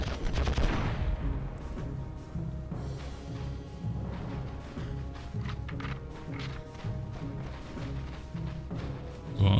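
Gunfire from the Gulf War video game Conflict: Desert Storm, a dense, continuous clatter of shots and impacts running the full length without pause, loud and close with no one talking over it.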